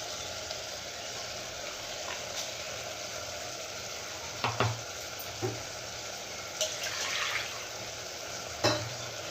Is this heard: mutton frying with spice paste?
yes